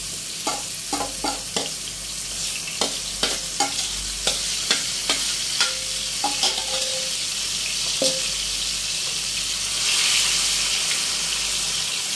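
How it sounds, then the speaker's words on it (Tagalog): Ground anchovy spice paste frying in oil, a continuous sizzle punctuated by repeated sharp scraping taps of a utensil stirring the pan, close and steady, with the hiss swelling near the end. "So, ipa-fry na natin. Inutuin natin sa mantika."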